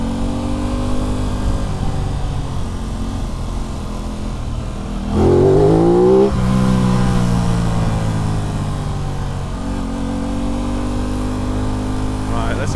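An Aprilia RS 660 sport motorcycle accelerates on the road, engine climbing in pitch through a hard rev burst midway before settling back, loud and close with wind rush.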